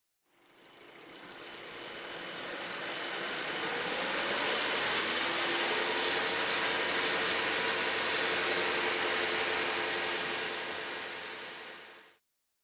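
A car engine running slightly rich of stoichiometric during exhaust gas analysis, a steady close hum and buzz that swells in, holds constant for several seconds, then cuts off.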